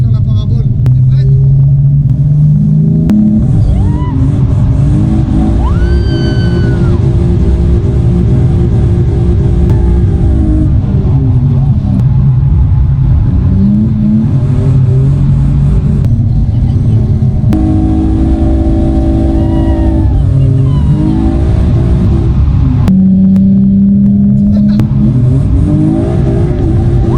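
A car engine revs and surges loudly at a drift event, with rising and falling pitch through repeated throttle bursts close to the microphone, and people talk over it.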